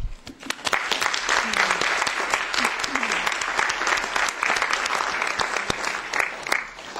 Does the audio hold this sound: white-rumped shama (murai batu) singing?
no